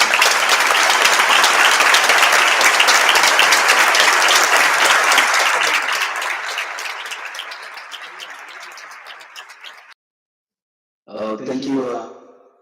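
Loud, dense applause from a large audience at an exhibition opening fills the first several seconds, then gradually thins and fades; a brief voice follows after a short silence.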